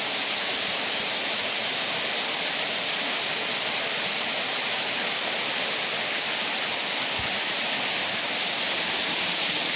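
A steady, full roar of rushing water from a waterfall, constant and unbroken throughout, with no voices.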